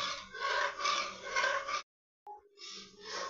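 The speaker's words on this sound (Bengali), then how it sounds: "এবার দুধটা ক্রমাগত নাড়তে হবে যাতে তলায় না ধরে যায়" Milk with sugar is stirred continuously in a wok to make kheer, giving a close, steady scraping rub in long strokes, broken by a brief silent pause before the stirring resumes.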